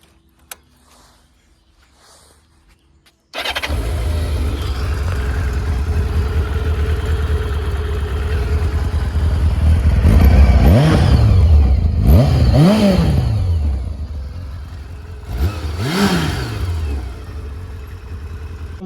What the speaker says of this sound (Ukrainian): хочу від'їхати подалі від людей для того, щоб продемонструвати вам стандартний звук вихлопу